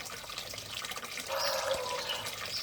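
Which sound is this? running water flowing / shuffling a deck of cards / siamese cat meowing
running water flowing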